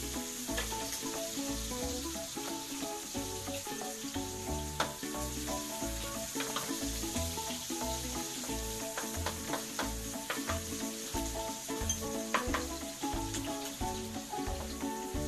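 Onions sautéing in a pan for Filipino menudo, a steady sizzle with occasional stirring, half-buried under continuous background music.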